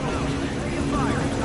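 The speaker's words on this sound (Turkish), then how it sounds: "İki tane helikopter var. Havada." A steady low rotor drone hums from a helicopter hovering overhead in the stealth video game Metal Gear Solid V: Ground Zeroes, holding an even level throughout the brief stretch.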